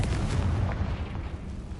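A Confringo spell explosion in Hogwarts Legacy, a dense, rumbling low blast that rolls on steadily and loudly for the whole short moment, with no talking over it.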